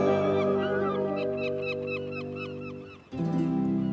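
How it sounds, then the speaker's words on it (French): Cartoon seagulls call in a rapid series of squawks over a steady musical background, loud and close, ending in a brief pause before the music resumes. "Je suis pas sûre d'aimer les mouettes."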